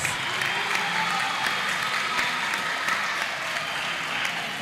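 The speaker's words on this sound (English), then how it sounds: "let's give them a round of applause" A congregation at a Seventh-day Adventist church service claps for district finalists, a dense, steady wash of applause from many hands, held evenly throughout with no talk over it.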